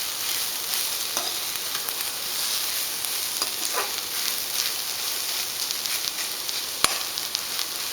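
Chopped capsicum and carrot stir-fry in a pan with a steady, close sizzle, broken now and then by faint scrapes and clinks of the stirring spoon; no one speaks.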